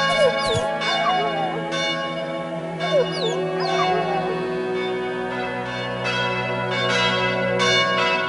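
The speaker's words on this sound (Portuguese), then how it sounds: "À meia-noite, os sinos enchem o ar com suas festivas badaladas." Church bells ring repeatedly, bright strikes recurring every second or so, with a low, steady hum underneath.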